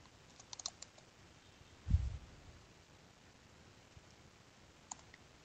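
Sparse clicks of typing on a computer keyboard in a quiet room, a small cluster of taps early, one heavier knock near the middle, and a last faint click later.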